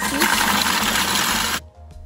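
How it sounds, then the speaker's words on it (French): A Thermomix grinding speculoos biscuits at speed 6, a loud, dense whirring roar that runs steadily and then cuts off abruptly, leaving quiet. "Et je programme le Thermomix 30 secondes, vitesse 6."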